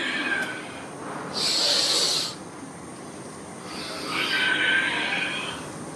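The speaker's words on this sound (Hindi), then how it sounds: "सांसों की आवाज आपको स्वयं को आनी चाहिए।" Yoga breathing through the nose, done very lightly for a sinus exercise: two slow, airy breaths, each a soft hiss lasting about a second, close to the mic and alone.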